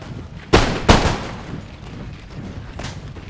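Musket volleys from line infantry in the Napoleon: Total War battle game crackle out as two close, sharp rippling bursts of gunfire, then a fainter distant volley over a steady battlefield din.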